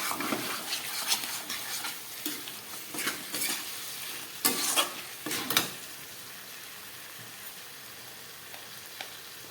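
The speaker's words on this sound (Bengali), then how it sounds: "এক চামচ মতো ঘি কষাবার সময় দিয়ে দিলাম" Meat being stirred and fried with ghee and spices in a pot, with repeated scraping stir strokes over a continuous sizzle, strokes bunching in the middle then fading to a quieter simmer.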